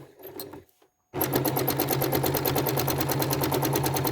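A sewing machine quilting loops into fabric, starting after a short quiet moment and then running fast and steady with a rapid even needle rhythm, close and loud.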